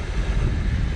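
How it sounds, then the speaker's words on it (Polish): Sea surf and wind rushing along a shoreline, a steady broadband roar with low rumbling wash and wind buffeting the microphone, continuous and fairly loud with no voice over it. "w tle będzie nam szumieć morze."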